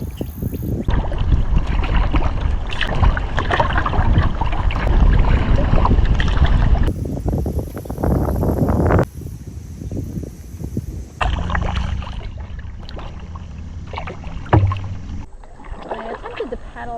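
A canoe or kayak is paddled on the Crawfish River at Aztalan. Water sloshes and splashes close to the boat, with steady wind buffeting the microphone and brief gaps where the paddling pauses.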